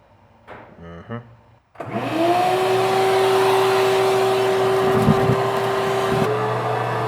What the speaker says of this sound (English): it's time to bust out the shop vac